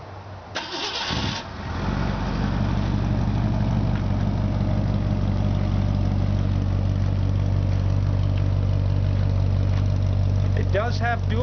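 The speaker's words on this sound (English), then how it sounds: "now I'll go and start it and show you that there is no smoke at startup." A 1963 Ford Falcon Futura with a 260 V8 and dual exhaust cranks briefly, catches and settles into a steady, rumbling idle up close, with a voice heard faintly near the end.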